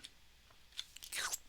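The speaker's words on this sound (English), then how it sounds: "Slurpy noises when I walk." Squishy, slurping footstep sounds from walking across honey blocks in the Minecraft video game, a few soft sticky steps building to a louder wet squelch near the end, alone with no talk.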